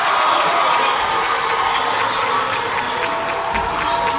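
Student section crowd cheering and applauding at a college volleyball game in a gym, a loud continuous roar of voices.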